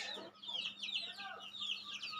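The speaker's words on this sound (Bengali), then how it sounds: "দেখতে পাচ্ছেন, এই যে মুরগির বাচ্চা।" Chicks and hens of mixed breeds, Tiger, colour bird and Fayoumi, peep and cluck in an enclosure on a house rooftop, a steady stream of high chirps close by.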